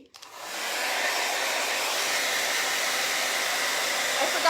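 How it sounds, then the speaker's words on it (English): A blow dryer switches on and blows steadily at close range, drying yellow and orange paint; a loud, constant broadband whoosh that holds alone until the end. "I'm gonna put a blow dryer on it"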